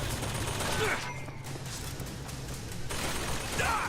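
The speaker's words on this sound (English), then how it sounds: "The machine gun is shooting me from quite far away." Machine-gun fire from a distant enemy in Bioshock Infinite crackles in a continuous fusillade, a dense, hissy stream of shots over a constant din of combat noise.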